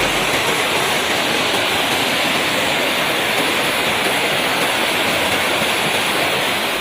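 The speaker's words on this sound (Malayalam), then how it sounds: "അടുത്ത് നിറഞ്ഞൊഴുകുന്നുണ്ട് ധോണി വെള്ളച്ചാട്ടം." Dhoni waterfall in Palakkad running in full flow: a loud, continuous broadband roar of rushing water, steady and close, with no voices.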